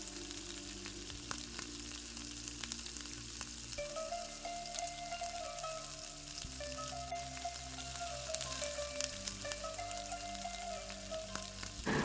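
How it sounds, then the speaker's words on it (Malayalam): Beaten egg frying in a pan on low flame, a soft crackling sizzle with scraping stirring strokes and a faint tonal hum in the background, close and quiet throughout. "ഒരു മുട്ട എടുത്തിട്ട് നന്നായിട്ടൊന്ന് ബീറ്റ് ചെയ്തിട്ട് ഇതിലേക്ക് ഒഴിച്ചു കൊടുക്കുക."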